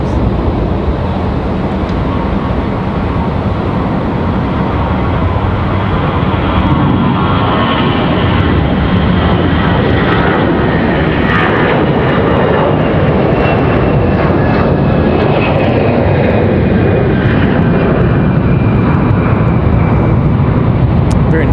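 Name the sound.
American Airlines Airbus A321 departing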